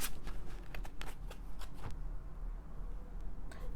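Tarot cards being shuffled nearby in quick riffling bursts, with soft flicks and slides that pause and then start again.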